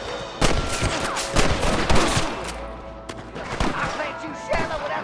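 Repeated gunshots ring out in a Red Dead Redemption western shootout, sharp cracks at irregular intervals over several seconds amid background game ambience.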